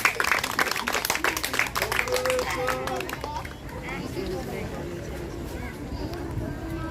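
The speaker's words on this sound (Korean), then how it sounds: "모두 박수로 맞아주시기 바랍니다." A church congregation welcoming new members breaks into brisk applause, dense and loud at first, then thinning and fading under voices and room chatter.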